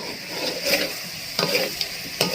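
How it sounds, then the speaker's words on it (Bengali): Mutton cooks down for kosha in a pan without water, a dense steady sizzle with a few louder stirring scrapes breaking through, close and fairly loud. "এবার আমি ভালো করে কষবো, জল না দিয়ে আমি কষতে থাকবো ভালো করে"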